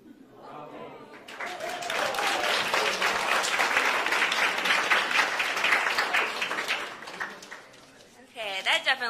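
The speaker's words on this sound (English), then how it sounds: "Definitely deserves a round of applause" A lecture audience breaks into applause, sustained dense clapping that swells and holds for several seconds before fading as a voice returns.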